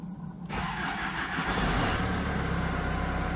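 A cold Hyundai Santa Fe 2.2 diesel engine cranks in a garage as it tries to start, a steady, loud mechanical churning that kicks in after a brief quiet moment and runs on without pause.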